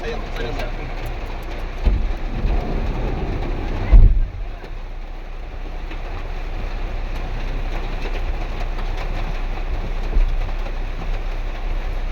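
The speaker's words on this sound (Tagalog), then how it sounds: "lakas po ng ulan" A dense, constant roar of heavy rain fills the scene, with a couple of brief louder thumps and faint voices underneath.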